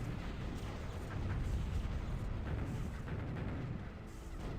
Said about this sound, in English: Scorpions going down in their own death explosion